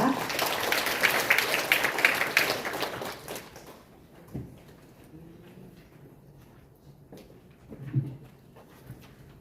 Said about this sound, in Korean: 여러분의 뜨거운 박수로 모시도록 하겠습니다.